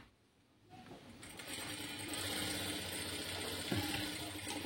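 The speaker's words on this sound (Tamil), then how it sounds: "இதை ப்ராப்பராக ஸ்டிச் பண்ணி எடுத்துட்டோம்." Sewing machine stitching an invisible zip onto fabric with a quarter-inch allowance, a steady whirring motor hum starting after a brief quiet moment and running continuously, close and even.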